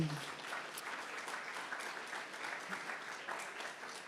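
Audience applause and cheering at a Waterfront Toronto open house in Toronto, a dense, steady wash of clapping with scattered voices, sustained across the whole stretch at moderate loudness.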